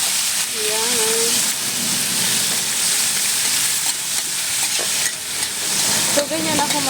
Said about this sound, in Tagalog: Kailangan natin igisa ng mabuti yung karne para mabango yung pinakbet natin.